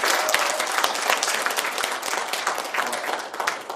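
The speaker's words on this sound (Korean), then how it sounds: "그렇게 하겠다는 박수 한번 부탁드립니다." A room of Rotary district leaders at a training seminar bursts into steady, dense applause, many hands clapping close and loud for several seconds with no talking over it.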